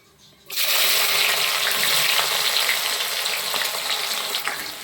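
Chopped onion dropped into hot oil in a pan while cooking chicken: a sudden loud sizzle bursts in and keeps crackling and hissing steadily, with a voice talking over it.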